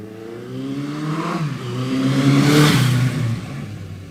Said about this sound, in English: This is Wizard's personal Suzuki GS1100E. It's a classic big bore 1100cc ripper.